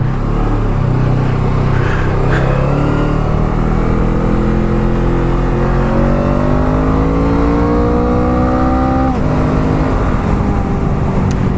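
Loud, continuous engine drone from a Honda CMX 500 Rebel, sharing the CB500's engine, ridden on a demo day, rising and falling in pitch as it revs through the gears, close up and steady throughout.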